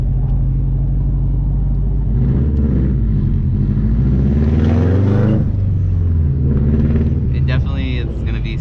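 A 2005 Subaru STI with a COBB tune and 20G turbo pulls hard under acceleration, its deep, loud engine rumble rising and swelling in pitch. A driver's voice talks over it inside the cabin.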